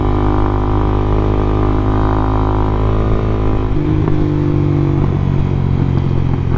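A 2016 Honda CB300F motorcycle being ridden, with the engine droning loud and steady at speed and a small drop in pitch partway through, accompanied by constant wind rush.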